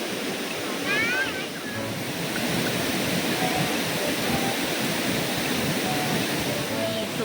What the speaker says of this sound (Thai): มีน้ำตกเล็กๆตรงโน้นด้วยมีน้ำตกใหญ่ตรงนี้